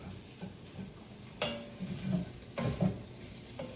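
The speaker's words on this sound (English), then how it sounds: "I'm gonna let the onions cook till they're translucent" Onions cook with meat in a pot for vegan chili, a soft sizzle under scattered stirring scrapes and light clinks of a spoon against the pot, faint and close.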